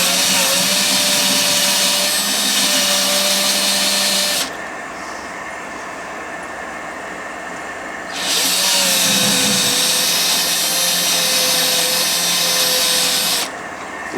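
A cordless drill with a weakening battery spins a WFT case trimmer cutting brass cartridge cases, two loud, steady whirring runs of several seconds each, separated by a quieter pause.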